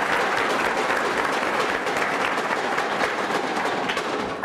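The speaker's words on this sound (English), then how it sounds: "So everybody give Jess a round of applause." Sustained applause from the audience at a university start-up competition finale, steady and dense throughout without a break, with no talk over it.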